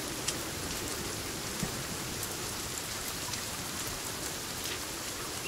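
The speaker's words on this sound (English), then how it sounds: "Probably because it's raining." Steady rain falling in the Sons of the Forest survival horror game, a constant even patter with scattered droplet ticks, moderately quiet and alone without voices.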